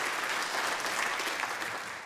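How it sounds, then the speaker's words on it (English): An audience at a live mind-reading stage show breaks into a round of applause, a dense, even wash of clapping that stays steady and close throughout the short burst without any speech. "Round of applause for Alfredo."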